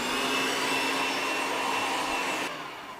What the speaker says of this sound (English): I don't have a very fancy processor, but it does do the job.